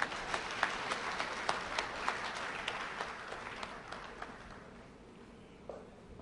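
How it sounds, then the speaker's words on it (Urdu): Audience applause at a 2010 mushaira poetry gathering in Jeddah welcomes a poet: dense, steady clapping with a few sharper claps, easing off and fading toward the end. "استقبال کیجئے اپنی بھرپور تالیوں میں"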